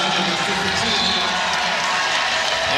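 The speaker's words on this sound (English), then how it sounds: "Suarez will get her curtain call as well in front of this very grateful home crowd" A grateful home crowd at a women's college basketball game applauds and cheers a player's curtain call, a dense, steady roar of clapping and voices filling the arena with a commentator's voice over it.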